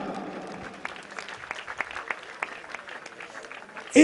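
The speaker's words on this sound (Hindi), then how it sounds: "जोरदार तालियां बजाओ, एक बार फिर से बजाओ आप लोग।" An audience at a handloom foundation-stone ceremony claps, a thin scattered patter of individual hand claps at moderate distance, with a loud bump at the very end.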